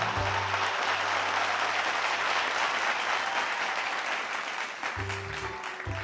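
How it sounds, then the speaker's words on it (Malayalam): Sustained audience applause at a children's creative event, loud and dense clapping filling the scene, easing slightly toward the end as it begins to fade. "എല്ലാവരും ഒന്നുകൂടെ നന്നായിട്ട് കൈയടിച്ചേ."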